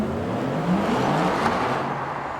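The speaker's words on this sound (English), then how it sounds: "one thing that I found quite cool was how the Porsche Tycan actually sounds" A Porsche Taycan Turbo S electric car plays its synthetic driving sound, a smooth whirring tone that rises in pitch as if accelerating, fairly close and steady with no voices over it.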